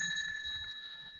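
A bell or chime from a trivia game show holds steady tones that ring on and fade slowly over about a second, with a low murmur underneath.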